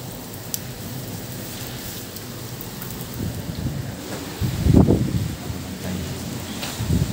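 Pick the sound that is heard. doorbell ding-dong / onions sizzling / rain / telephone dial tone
rain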